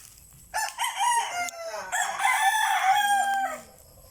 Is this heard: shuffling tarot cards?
no